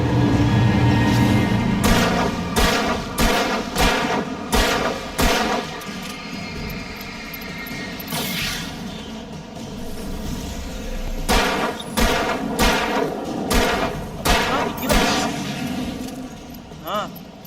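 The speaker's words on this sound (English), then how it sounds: "Oke, gua pakai shotgun lah." Shotgun fire in the horror game Alan Wake, rapid loud blasts in bursts of several shots, with pauses between volleys, under game sound and a voice talking.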